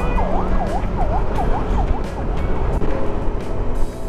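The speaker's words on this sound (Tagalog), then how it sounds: "Merong ambulansya dito sa likod," An ambulance siren approaches from behind a vehicle on the Real to Mauban road, its rapid wailing yelp cycling loudly and repeatedly over steady road and engine noise.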